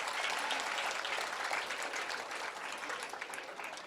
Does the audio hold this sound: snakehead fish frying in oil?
no